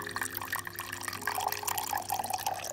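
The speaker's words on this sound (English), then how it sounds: "Let's put this water in here and see how it sounds like." Water poured into a pet's water bowl, a steady splashing, trickling stream close by with bright gurgling throughout, no talking.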